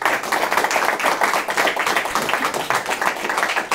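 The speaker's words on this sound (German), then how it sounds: "Auch für Sie einen Applaus." Steady applause from a business talk event audience, dense overlapping claps sustained at an even level throughout, fairly close and loud.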